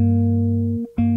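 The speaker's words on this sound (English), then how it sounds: "that's the sound of a minor tenth" Bass guitar sounding a minor tenth, two notes held together and ringing steadily, briefly cut off before being struck again, close and clear with no voice.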